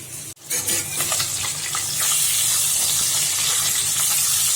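Rohu fish pieces fry in a pan with a steady, close sizzle and hiss of hot oil running throughout, after a brief sharp clatter near the start.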